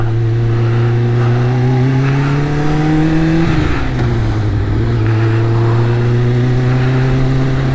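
A 2001 Kawasaki Ninja ZX-6R sport bike engine runs steadily while riding, holding a rising drone that dips and shifts midway as the rider changes gear, then settles back into a constant hum.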